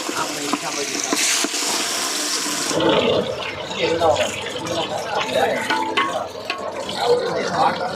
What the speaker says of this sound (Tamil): இப்போ ஒரு நாலு பீஸ் மீன் எண்ணெயில் போடுறேன்